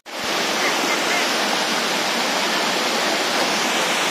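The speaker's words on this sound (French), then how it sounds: "regardez la jolie vue sur la cascade Kunsi Waterfall" Kunsi Waterfall on Koh Samui, Thailand, pours down in a loud, continuous broadband roar of cascading water, heard close with no other sounds.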